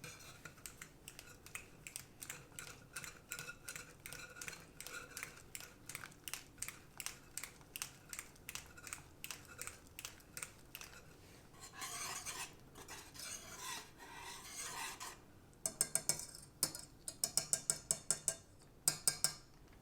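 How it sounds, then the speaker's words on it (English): A spoon stirs sweet and sour kadhi with asafoetida in a pot, making quiet, close, rhythmic scrapes and clinks in a steady beat that turns faster and more irregular toward the end. No talk. "keep stirring with the spoon so your ingredients are not getting separated."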